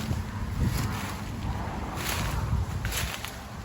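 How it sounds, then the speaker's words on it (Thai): Strong wind gusts roar steadily across an outdoor spot near a golden teak tree, with broadband rushing and low buffeting of wind noise on the microphone, loud and continuous with a few stronger swells. "ลมแรงมากนะครับ"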